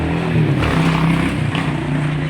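A tricycle's small engine drones loudly and unevenly beneath the riders, its pitch rising and falling slightly over a couple of seconds of close, continuous running.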